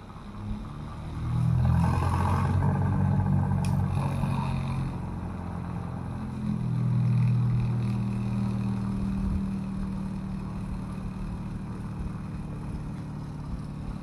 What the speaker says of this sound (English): start the motor. Here the motor is going to run.